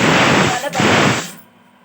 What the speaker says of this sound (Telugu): మిక్సీ పట్టుకొచ్చి చూపిస్తా